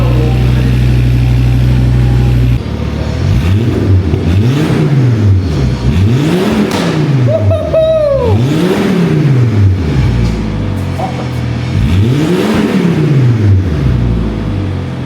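A Volvo S60R T5 with a new exhaust idles loudly, then is revved in a run of repeated rising-and-falling blips, each swell deep and throaty, heard close without speech.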